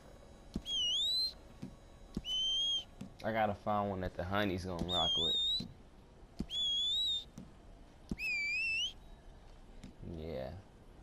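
A character in Red Dead Online whistles a series of bright rising-and-falling notes in short phrases, with someone talking briefly in the middle between them.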